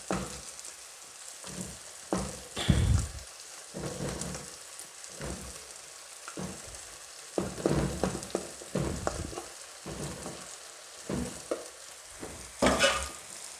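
Matoke bananas with turmeric going into a hot pot on a stove, producing soft sizzling and frying with irregular bursts of stirring and clattering, close and moderately loud, no voices.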